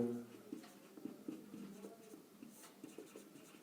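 Pen writing a maths solution on paper, soft scratchy strokes in uneven bursts, close and quiet, with faint speech in the background.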